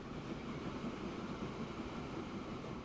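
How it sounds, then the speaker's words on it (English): A train passing in the Transport Fever 2 video game gives a steady, dense rumble of rolling rail cars, constant and moderately loud throughout with no talk. "we have to wait for that train to clear"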